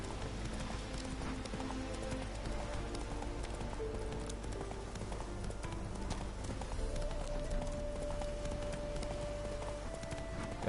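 Roach, a horse in The Witcher 3 riding through Novigrad, clip-clops along at a steady trot, its hooves close and continuous over a game soundscape of ambient music.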